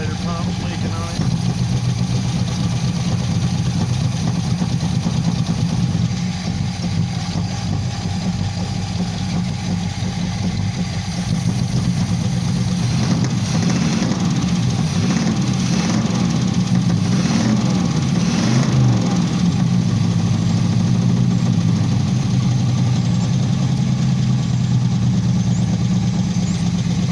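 An Oldsmobile Cutlass Supreme engine with a rebuilt carburetor runs roughly, a continuous uneven idle with wavering low rumble and slight rev changes, heard close alongside speech.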